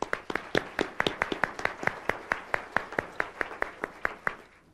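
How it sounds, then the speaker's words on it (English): Steady, evenly paced clapping at the 2000 IEEE awards ceremony, roughly twenty distinct crisp claps in a regular rhythm, sounding like only a few hands, clear and mid-distance without talk. "Let's give him a round of applause"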